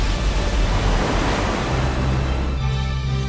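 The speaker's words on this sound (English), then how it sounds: "Carve monster waves on a treacherous reef." Roaring ocean waves breaking on a reef, a dense, loud wash of surf that settles into a lower steady rumble near the end.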